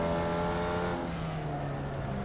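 A race car engine in the iRacing simulator revs hard as the driver works the accelerator and brake, a dense steady roar with shifting pitch and no voices.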